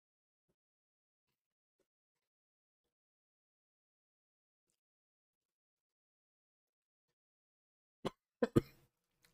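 Two or three harsh coughs burst out close to the mic after a long stretch of near silence, ending with a brief rough throat sound.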